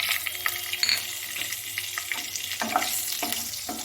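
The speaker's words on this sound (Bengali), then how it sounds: "এখন আমি এই আলু ভাজা তেলটার মধ্যে দিয়ে দিচ্ছি তেজপাতা, লবঙ্গ, কাবাব চিনি, দারচিনি" Bay leaves, cloves, cubeb, cinnamon and cardamom sizzle in hot oil with scattered crackles and pops, a steady hiss near and moderately loud, with small clinks of something stirred in.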